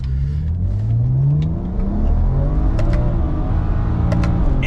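A street car with a drag-tuned transmission revving hard during a drag shift, wheels spinning on wet road; a loud, continuous engine roar rising in pitch, then holding steady at high revs.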